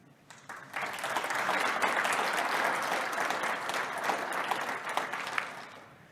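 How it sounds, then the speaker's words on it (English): Audience applause after a conference talk on WasmCloud security, a dense wash of clapping hands that swells quickly, holds steady and fades out near the end, with no speech. "after the applause and everything"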